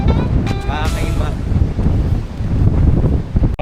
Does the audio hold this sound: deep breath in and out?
no